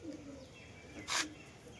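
Deshi Giribaz line pigeons coo in soft, low murmurs close by, with a brief brighter burst of noise near the end.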